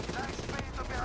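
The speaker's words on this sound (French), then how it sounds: "Excusez-moi les mecs, je vais tirer dessus." A short, rapid string of gunshots in the video game Call of Duty: Black Ops 3 clatters over busy game noise, with a voice faintly mixed in.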